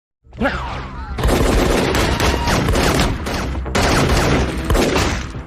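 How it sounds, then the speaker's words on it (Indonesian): Pistol return fire answers attacking robbers in a film shootout over a bank courier, loud sustained volleys of rapid overlapping shots and bursts, with a short lull near the middle before the barrage picks up again. "Keduanya pun membalas menembak dengan menggunakan pistol."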